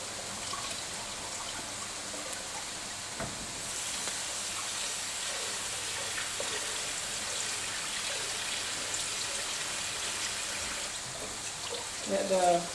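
Rice being washed in water for paella, a steady close swishing and trickling of water with faint splashes, continuous throughout and rising briefly near the end; a voice talks quietly at times.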